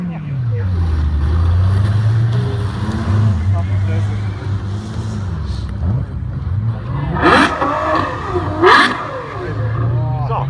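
Sports car engine revving at a car show (Lamborghini, Ferrari, Corvette sound check), a loud low idle rumble rising into sharp throttle blips with crowd voices and talk around it.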